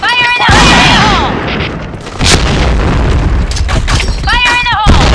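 A grenade explodes in a video game with a loud, sustained boom that rolls on under game noise, while a voice calls out at the start and again near the end.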